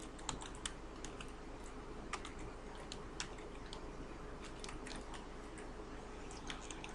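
Code is typed on a computer keyboard, with steady close key clicks and occasional sharper taps running throughout, with no voice over them.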